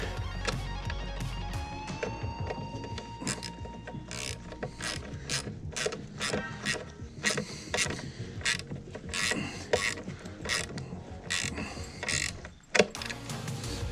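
An 8mm bolt is tightened down on a Predator 2000 watt inverter generator, giving a steady run of small metallic ratcheting clicks and mechanical clatter with faint whining tones early on.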